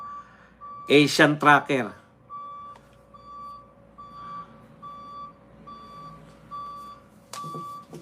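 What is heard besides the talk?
truck reversing beeps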